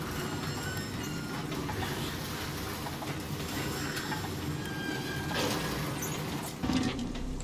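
A train is slowly pulled in the Darksiders video game, a continuous low rumbling and mechanical rolling that holds steady at moderate level. A few brief clanks come near the end.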